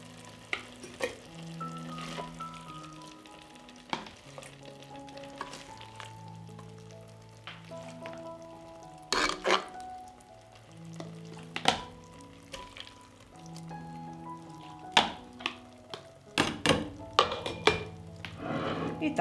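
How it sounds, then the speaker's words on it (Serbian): Hot pepper relish being ladled into sterilized glass jars, with sharp clinks and scrapes of a ladle against pot and jar over quiet background music and a faint bubbling simmer. "I ovako vrelu papriku sipam u sterilisane tegle."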